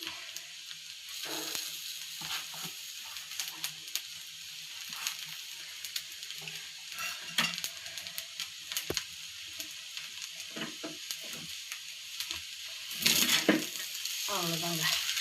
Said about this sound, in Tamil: இப்போ கொத்தமல்லி போட்டு ஒரு கலக்கிடலாம்.